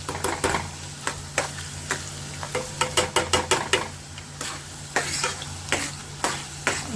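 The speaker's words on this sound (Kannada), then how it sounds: "ಇದು ಫ್ರೈ ಆಗಬೇಕು ಫುಲ್." Food frying in oil in a pan while being stirred, with repeated sharp scraping and clinking strokes in an uneven rhythm over a steady sizzle, close and fairly loud, no talking.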